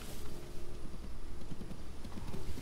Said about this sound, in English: Oh, wait, horse coming.